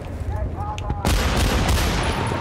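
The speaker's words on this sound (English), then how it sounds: "Who is shooting at me?" Heavy gunfire in the video game Battlefield 1943 erupts as a loud, dense burst of shots and keeps going without a break, following a quieter stretch of game noise.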